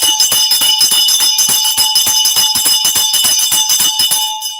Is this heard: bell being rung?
yes